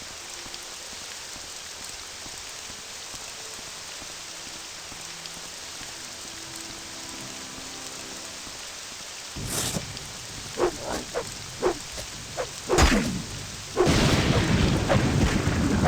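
Rain falls in the video game Morrowind as a steady hiss that fades in over the quiet. Then a run of sharp thunder-like cracks arrives and the downpour swells louder near the end.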